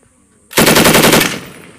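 After brief quiet, an M240 medium machine gun opens up with a loud burst of rapid, evenly spaced rounds on a Marine range at Camp Hansen, Okinawa, then trails off into echo.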